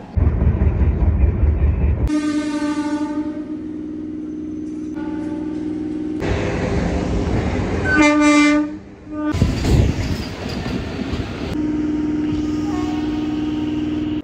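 Crowded morning passenger train near Kolkata heard from a seat inside: a steady low rumble of the running carriage broken by several long, loud horn blasts, without talk.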